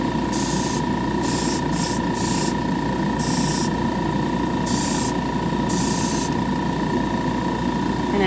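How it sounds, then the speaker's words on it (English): Paint spray gun laying down a darker coat across the top of an ombre finish, hissing in repeated bursts of roughly half a second to a second, with a steady compressor-like hum and whine running continuously underneath. "I'll give it a darker spray."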